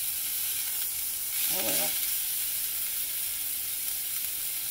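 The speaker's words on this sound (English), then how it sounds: "Once that skillet gets hot and they start to brown" Meatballs sizzling and browning in a hot skillet, a steady close frying hiss under a brief murmured voice.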